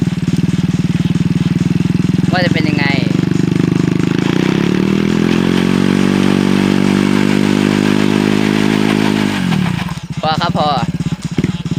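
A Honda Wave 110i motorcycle engine revs hard and holds a high steady drone, then drops back to idle, loud and close throughout, with brief higher whines at each end.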